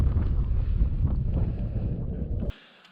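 Steady wind buffeting a microphone on an exposed desert point in Utah's San Rafael Swell, a loud continuous low rumble that cuts off abruptly near the end, leaving a faint hiss.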